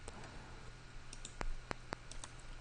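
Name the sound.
computer mouse clicking in CAD software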